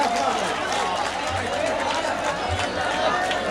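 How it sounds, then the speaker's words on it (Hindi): Steady applause from an audience at a ghazal recital, a dense continuous wash of clapping throughout with a faint murmur of crowd voices underneath. "दोस्तों एक बार पुरजोर तालियां बजाएं खूबसूरत इस धन के लिए"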